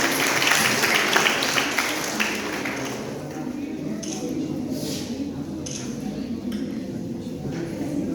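Audience applause at a college cultural competition in Siddapur: a steady patter of many hands clapping in a hall, strongest at first and then thinning to a softer, continuous clatter.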